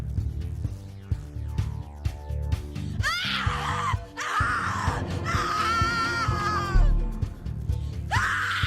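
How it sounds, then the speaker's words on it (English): Screaming from a character in The Cat Lady horror video game, drawn-out anguished wails rising and falling over several seconds, loud and close over a droning game soundtrack. "Your scream is like a poem without words."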